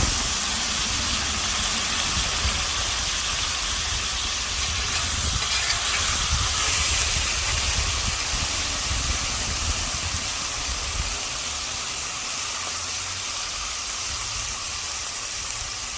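Liquid poured into a hot pan of seasoned sweet potatoes with salt, pepper and garlic sends up a loud, steady steam hiss that continues unbroken and close up, with no talking.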